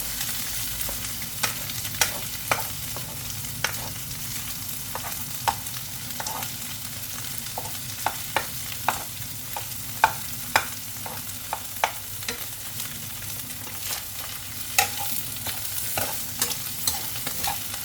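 Shrimp stir-fry with kale sizzles steadily in a pan while a utensil scrapes and clacks against the metal in frequent irregular taps, close and continuous with no talking.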